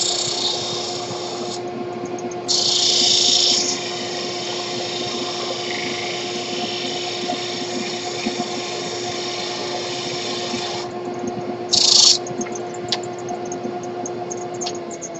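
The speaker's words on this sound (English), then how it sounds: "And back to the disc grinder." A disc grinder shapes a pen blank with a steady high whine and two brief louder bursts of grinding as the blank is pressed against the disc, close up and alone.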